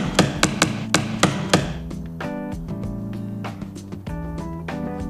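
About six quick, sharp taps of a dead blow hammer fitting an Alloygator wheel rim protector, in a steady rhythm, followed by quieter knocking and handling noise.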